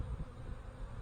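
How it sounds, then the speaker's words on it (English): A steady low buzzing hum of many honey bees in flight, continuous and fairly faint, with no voices. "the bees are flying pretty good"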